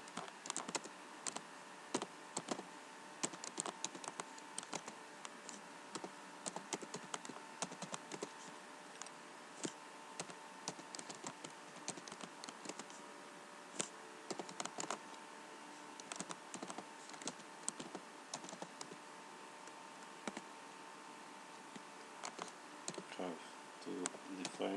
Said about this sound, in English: Problem with my keyboard, typing R.